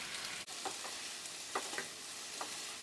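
Stir-fry vegetables with peppers just added sizzle steadily in a pan, a constant hiss broken by a few soft stirring clinks and scrapes, close and moderately loud with no talking.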